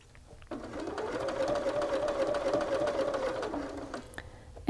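A sewing machine runs steadily for about four seconds, stitching a shirt pocket in place before pivoting, with a smooth continuous motor whir and no talking.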